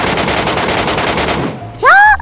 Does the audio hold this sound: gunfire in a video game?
yes